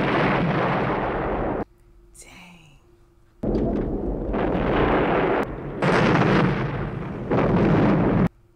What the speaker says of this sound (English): That explosion was really cool to watch, though.